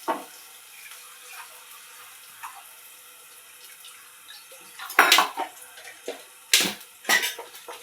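Water splashed into a pan of frying masala paste, a soft background of faint clinks and trickles broken by loud bursts of splashing and hissing near the end, with no talking.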